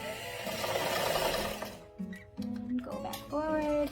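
A sewing machine back stitches a scrunchie in short mechanical bursts and stops, with a voice speaking between the runs.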